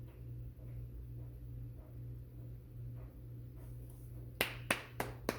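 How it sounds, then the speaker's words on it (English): Four sharp hand claps ring out close at the end, spaced about half a second apart, over a low rumbling background hum, with no talking. "I'm clapping because I see now."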